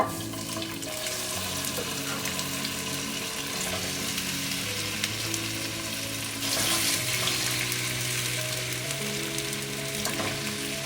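Sliced potatoes fry in avocado oil in a pan, giving a steady, close sizzle with occasional stirring noises and a brief louder crackling surge partway through.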